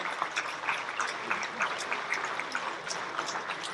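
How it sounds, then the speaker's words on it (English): Audience applause at Cambodia's 69th Independence Day anniversary celebration, a steady wash of clapping from a large crowd at moderate level, continuous throughout without voices. "A warm round of applause, ladies and gentlemen"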